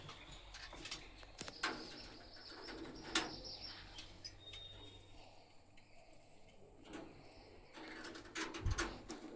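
Pigeons in a loft, soft cooing and intermittent wing flaps in a quiet room, faint and close, with occasional rustling and no voices.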